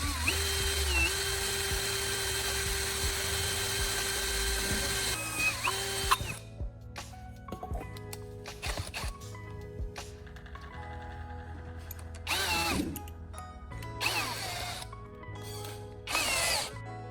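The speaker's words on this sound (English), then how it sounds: "I'm using my drill to carefully create each marked hole." A power drill whines in long bursts, stopping and starting while drilling holes in a metal can, with clanks and handling noises in the pauses between runs.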